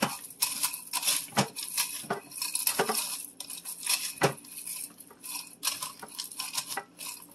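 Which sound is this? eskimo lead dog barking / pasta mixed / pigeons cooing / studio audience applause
pasta mixed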